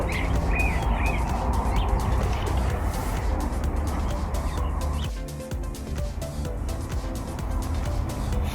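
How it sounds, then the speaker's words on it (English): Chickens cluck and chirp softly nearby amid rustling and scratching, with a few brief calls standing out early on. "the chickens are very interested in what I'm doing here."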